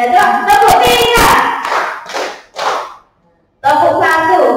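A group in a school workshop on positive culture claps in unison, sharp rhythmic bursts of hand claps in short counted sets with brief gaps between, close and loud.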